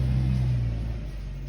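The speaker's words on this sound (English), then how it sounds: "You hear our mail truck just went by because I'm sitting outside." A mail truck rolls past outside with a low, rumbling engine that is loud at first and then eases off as it moves away during a brief pass.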